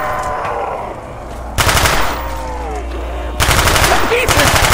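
Rapid bursts of automatic gunfire in a zombie video game, two loud broadband volleys standing out against a continuous backdrop of game noise and effects.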